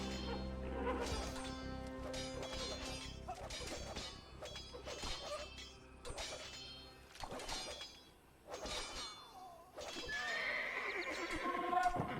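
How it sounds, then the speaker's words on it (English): Horses neighing and crying out as they die in the video game Age of Empires II, several loud whinnies mixed with clip-clop, clanging battle hits and chimes. "I don't like that the horse cries when it dies."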